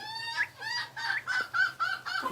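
A Peking cross chook on a backyard farm gives a run of six or so short, close clucks in quick succession, each a bright, harmonic chirp, with no talk over them.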